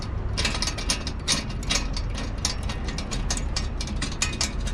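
Turnbuckle straps on a Yamaha Super Rack are ratcheted tight in a close, steady run of quick metallic clicks, with no talking.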